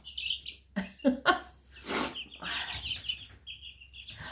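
Ameraucana chickens cluck and chirp close by in short bursts, several quick calls followed by a longer squawk and softer clucks, with quiet gaps between.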